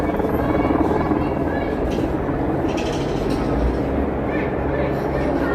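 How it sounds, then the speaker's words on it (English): Low rotor drone of news helicopters overhead blends with a loud, steady crowd roar and shouting voices throughout a large outdoor street rally in Washington, DC. "Got news helicopters overhead."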